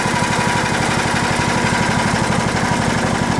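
A vehicle engine runs steadily and loudly close by, with a fast, even pulsing throb as it drives around a trap line set for fox during the 2023-24 hunting season, and no voices over it.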